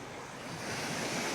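Waves wash onto a pebbly beach in Hong Kong, a steady, loud rushing surf mixed with wind noise, swelling slightly toward the end.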